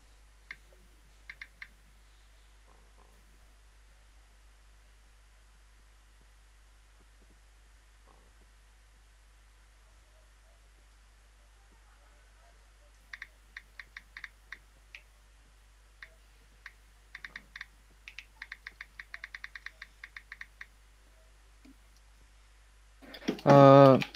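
Someone types on a computer keyboard in scattered bursts of light, rapid clicks, sparse at first and then denser, before a voice starts speaking at the very end.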